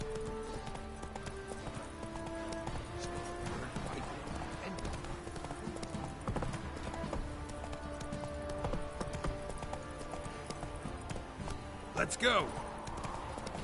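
Roach, Geralt's horse in The Witcher 3: Wild Hunt, clip-clops along in a steady rhythmic gait under continuous game music and ambience, with someone talking briefly over it.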